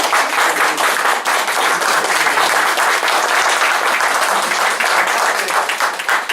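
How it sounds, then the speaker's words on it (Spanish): Sustained, dense audience applause at a talk in Valle de Chalco, honoring the presenter; loud, even clapping fills the whole stretch with a slight crowd murmur underneath. "Yo pediría un aplauso para el excelente ponente."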